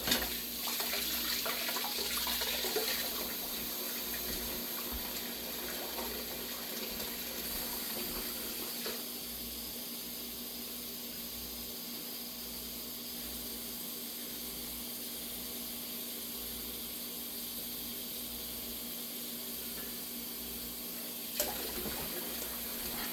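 Tap water running steadily into a cooking pot in a home kitchen, a continuous broadband rush heard alone and close for the whole stretch, with a slight change in tone as the pot fills.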